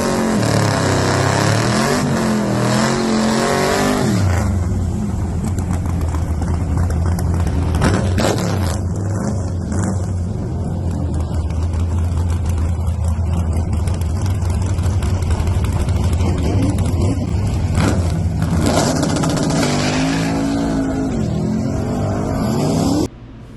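A white 1966 Chevelle race car with a Lenco transmission and a small-block Chevy runs at Woodburn drag strip, its engine roaring loud and steady close by, with a lower rumbling stretch in the middle and another surge near the end.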